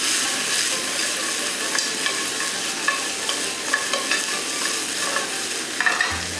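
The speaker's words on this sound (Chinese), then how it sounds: "翻炒一下就可以出锅了。" Pepper chicken with garlic, ginger, scallion and red chili stir-fried over high heat in a wok after sauce is poured in, giving a steady loud sizzle with repeated scraping and tossing clicks, and a heavier clank near the end.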